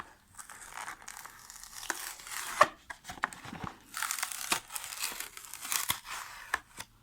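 Paper packaging rips and crinkles as a Majorette Hyundai i20 Coupe WRC toy car is unboxed, a series of sharp, close tearing bursts and rustles separated by brief pauses.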